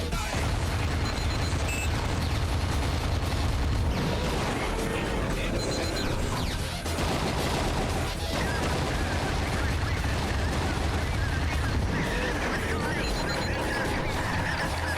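Dense, continuous underwater combat din from torpedo explosions in the video game AquaNox, with booming blasts and rumbling detonations layered throughout at steady high loudness.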